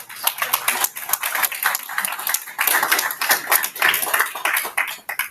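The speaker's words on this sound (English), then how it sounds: "We have a round of applause for everybody across the board." Applause from a small audience at an election Q&A session, sparse, distinct claps from a few people with an uneven rhythm, close and fairly clear.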